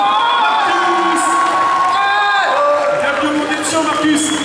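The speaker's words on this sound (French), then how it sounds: "Je vous demande un tonnerre d'applaudissements pour Mister Marcus" Crowd at a Mangame Show gaming convention on stage in Fréjus cheering, whooping and shouting for a guest, a loud, continuous roar with high children's voices rising over it.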